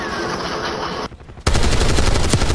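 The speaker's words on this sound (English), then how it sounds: "where are they shooting?" Gunfire in Call of Duty Black Ops 6 multiplayer: loud rapid bursts of automatic shots, a brief drop in the middle, then another dense burst resuming, no speech.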